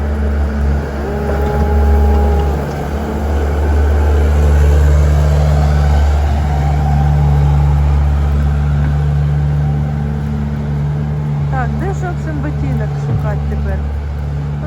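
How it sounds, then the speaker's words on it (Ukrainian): Small tractor engine running steadily and manoeuvring in Lviv, a droning mid-pitched motor with shifting revs throughout, close and loud, while people talk over it. "Вот так вот працює тракторець."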